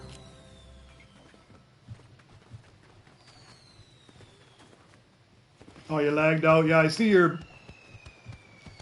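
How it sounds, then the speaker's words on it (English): Fireworks burst in a Roblox Droid Tycoon game, a dense crackling cluster lasting about two seconds in the middle, preceded by quieter scattered pops and game tones while someone talks over it. "You'd be happy to know your fireworks are still going off, even though you're not there."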